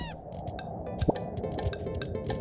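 Penguins being slapped in a Dream Daddy minigame, a busy mix of quick squawks, honks and slap hits in an uneven rhythm over steady game music.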